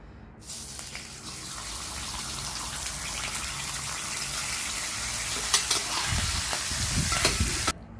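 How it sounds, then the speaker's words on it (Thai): Bacon sizzles and fries in an oiled pan, a steady dense crackle that runs loud throughout, with a few louder pops and scrapes near the end. "พอมันเคลือบแล้วก็ใส่เบคอนลงไป"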